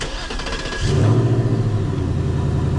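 A 2024 Ford Mustang GT engine with stock exhaust starts up and settles into a steady, fairly subdued idle with a low rumble; exhaust is mild rather than loud.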